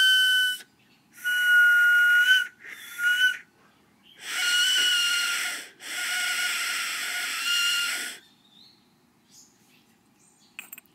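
A small conical ceramic ocarina with a toasted sage glaze plays clear, breathy whistled notes in short phrases, some quick and some held, close and alone, with quiet gaps and faint handling at the end.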